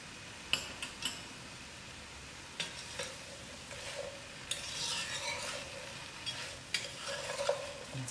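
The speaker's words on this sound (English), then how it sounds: "and I'll allow it to fry for another 10 minutes" Butternut squash with paprika, salt and sugar fries in a pot as a spoon stirs it, with clinks and scrapes against the metal and a soft sizzle rising in the later part.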